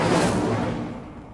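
An Incendio fire spell cast in Hogwarts Legacy, a loud whooshing burst that swells then fades over about a second, with no talk over it.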